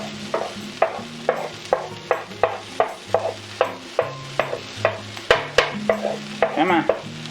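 Onion, garlic and tomato frying in a pan, with a steady rhythm of stirring strokes about every third of a second scraping through the food over a low sizzle, close and fairly loud with no talking.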